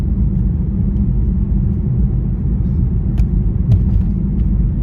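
Car engine rumbles steadily throughout a drive through city streets, a low continuous drone building slightly as the vehicle accelerates out of a turn, with no talking.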